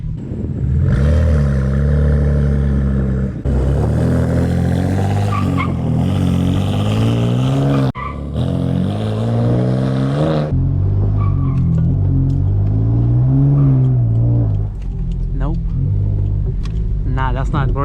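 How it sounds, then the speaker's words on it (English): BMW M4 engine revving hard in repeated rising bursts to warm the tires, loud and close with rumbling harmonics, a brief cut around eight seconds, then settling into lower revs and skidding-like noise near the end. "we're gonna warm up the tires first"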